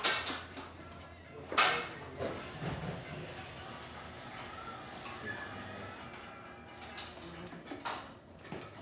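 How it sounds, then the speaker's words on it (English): A DeLonghi Gran Dama Deluxe espresso machine's steam wand, fed by a new steamer boiler, gives a faint, continuous airy hiss for several seconds, with a few soft knocks at the start and end. "Now we're going to be testing the steamer function of this machine."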